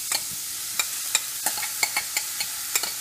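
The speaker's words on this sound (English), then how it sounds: "we're going to saute it for 2 to 3 minutes until the onion releases" Onion sautés in a pan with a constant light sizzle, broken by sharp, irregular clicks and scrapes of stirring, close and fairly loud.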